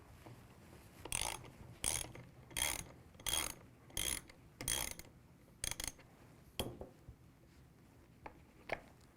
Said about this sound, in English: Disassembly begins by removing the two caliper pins.